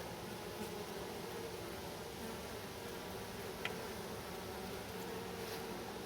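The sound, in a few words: honey bees buzzing in a nuc hive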